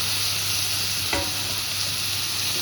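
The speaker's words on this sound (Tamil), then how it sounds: "அதுக்கப்புறம் தக்காளி இதை போட்டு நல்லா வதக்கணும்." Native tomatoes sauté with curry leaf powder in a hot pan, giving a steady sizzle throughout and one brief scrape of a stirring spoon near the middle.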